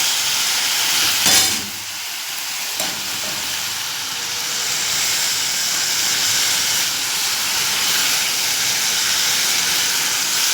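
Capsicum and tomato hit a pan of cooking potatoes with a loud burst of hissing sizzle, then settle into a steady, dense frying crackle that runs on for several seconds.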